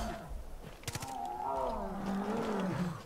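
A bear in the video game Far Cry 5 lets out a deep, drawn-out growling roar that rises and wavers for a few seconds, preceded by a couple of sharp clacks, with game ambience underneath.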